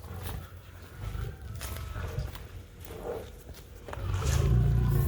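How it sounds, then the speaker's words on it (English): Lions roaring at a zoo in Jamaica, heard as rough, rumbling bursts at moderate distance, with a louder low roar swelling near the end among scuffing footsteps and outdoor noise. "So now we're going to go a bit closer to the lions to hear them roar."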